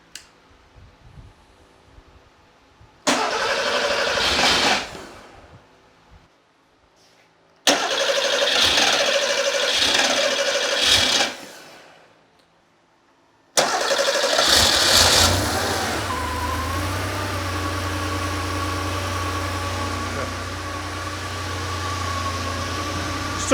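Cold Porsche 911 3.2L engine cranks in two separate bursts, stops, then catches on the third attempt, revving briefly before settling into a steady, loud idle heard up close with no talking.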